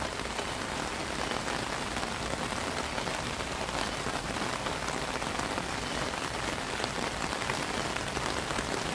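Heavy, steady rain falls at a baseball game, a dense uniform hiss of drops on surfaces that holds constant throughout with no talk over it.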